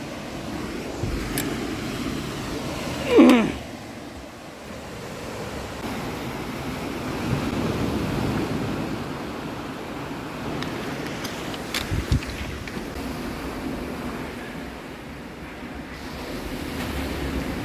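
Sea surf washing against coastal cliffs above sea caves: a continuous soft roar of waves with gusty wind buffeting the microphone and a brief louder burst, heard from a distance outdoors with no talking.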